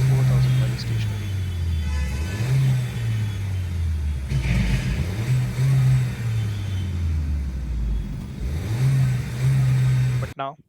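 A Škoda Octavia 1.4 TSI turbo petrol four-cylinder engine revving while stationary, the revs repeatedly rising and falling in several strong sweeps over a steady idle rumble, loud and close, ending abruptly.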